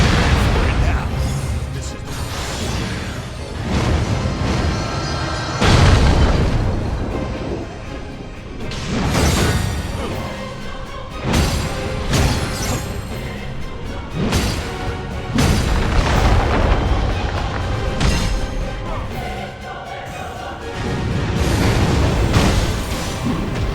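Explosions and heavy impacts in the action game Stranger of Paradise, a series of loud booming bursts and crashes at irregular intervals amid combat noise, with a voice talking over parts of it.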